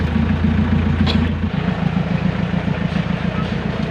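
A Hyundai Grace engine running just after starting, a steady loud mid-pitched idle with a brief low hum in the first second and a half, continuing evenly to the end.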